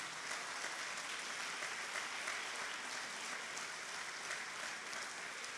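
A church congregation applauds steadily for several seconds, a dense, even wash of clapping that sounds somewhat distant and soft, with no talking over it.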